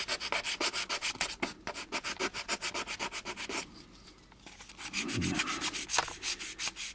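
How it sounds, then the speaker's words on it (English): Rapid back-and-forth scratching of fine sandpaper on a plastic model kit sprue, quick rhythmic strokes close up, pausing briefly midway before resuming. "I'm going to use my cross-sanding method here."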